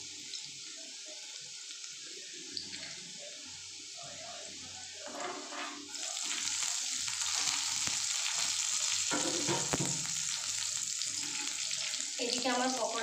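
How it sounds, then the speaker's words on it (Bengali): Garlic and green chilies fry in a pan, starting as a softer sizzle and turning into a louder, denser crackle about halfway through, with occasional clatter of stirring or utensils. "এবার রসুনটা একটু ভাজা হলে, একটু ভাজা হয়ে যাক"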